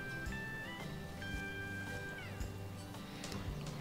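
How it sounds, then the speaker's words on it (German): A cat meows in the farming game Professional Farming Cattle and Crops, over a busy soundscape with music and machinery in the background, the cry rising and falling once or twice. "die Katze ist auch noch irgendwo hier, treibt sich rum"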